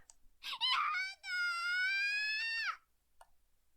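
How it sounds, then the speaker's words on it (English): Kozapi, a character in the video game Chaos;Head Noah, lets out a close, high-pitched sustained scream after a short broken wail, then goes quiet. "Kozapi, okay, was screaming something. She looked like she was suffering."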